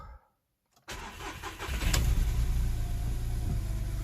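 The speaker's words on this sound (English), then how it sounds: "Let's start the car." A VW Polo fitted with a swapped engine cranks briefly after a moment of silence, then catches and settles into a steady, close idle.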